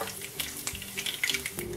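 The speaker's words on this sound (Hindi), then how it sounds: "जैसे ही तेल गरम होगा इसमें सौंफ, कलौंजी और मेथी दाना भी डाल दें।" Fennel, nigella, fenugreek and mustard seeds hitting hot oil for a tempering, a close, quiet crackle with small irregular pops and a light stirring scrape.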